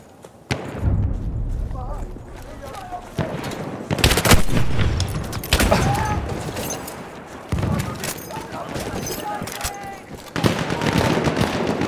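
Machine gun fire in Battlefield 1 infantry combat, repeated bursts of rapid gunshots and heavy thumps in close, loud volleys, with shouted voices mixed in between the bursts.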